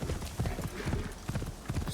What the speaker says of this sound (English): back on the horse, and let's keep galloping this way